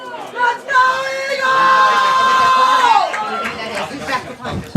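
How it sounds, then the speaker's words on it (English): Crowd at a high school playoff football game between Eastern Eagles and Fort Recovery Indians, a steady wash of chatter and cheering with whistle-like tones, heard at a distance through an open mic. "I'm hearing a lot of crowd noise"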